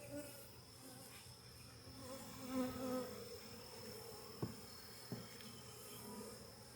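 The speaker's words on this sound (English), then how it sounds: "there's a ton of bees in here" Honey bees in an open beehive during an inspection, a continuous, faint, close buzzing hum with a couple of soft knocks near the end.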